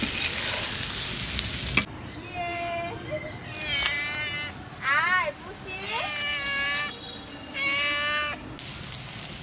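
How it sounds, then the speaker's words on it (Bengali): Pointed gourd and onion fry in a pan with a steady, soft sizzle, while a high, wavering voice chimes in over it in short phrases. "পটল আর একটু আছে, ওটার ভাজার সাথে সাথে পেঁয়াজটাও ভাজা হয়ে যাবে"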